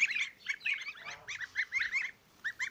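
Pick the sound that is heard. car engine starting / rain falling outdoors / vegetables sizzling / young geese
young geese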